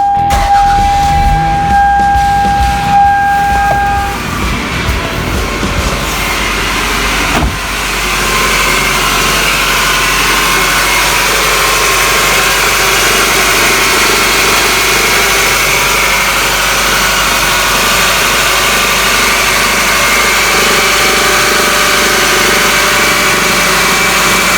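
A 1997-2001 Toyota Camry with the 5S-FE 2.2L engine cranks briefly, catches after several seconds and settles into a loud, steady idle after a serpentine belt replacement.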